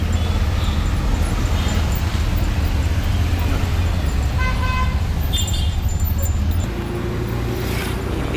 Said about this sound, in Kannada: ಅಲ್ಲಿ ಟ್ರೈನ್ ಹೋಗ್ತಾ ಇದೆ ನೋಡಿ